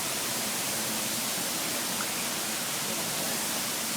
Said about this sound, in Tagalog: Tingnan mo, may falls.